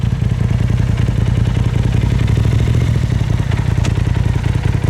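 Motorcycle with a Stage 3 tune on 93 octane fuel held at full throttle, a loud, continuous low rumbling engine roar with rapid pulsing and clatter, close and steady throughout.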